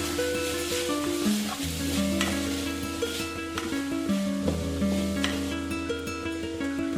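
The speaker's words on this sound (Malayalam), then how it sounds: "അതിലേക്ക് 2 തണ്ട് വേപ്പിലയും കൂടി ചേർത്ത് വഴറ്റണം." Shallots, tomato and curry leaves sauté in coconut oil in a kadai, giving a steady close sizzle with occasional stirring scrapes of the spoon running through all seven seconds, while music plays over it.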